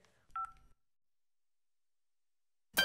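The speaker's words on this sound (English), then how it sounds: "Now I can give a call to Katya and tell her she left her phone over here." Short electronic telephone dialing tones in a Fixies cartoon, two quick beeps close together near the start, then a long silence before another burst of tone at the very end; no talking.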